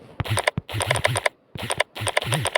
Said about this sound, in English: we have a unique typing sound.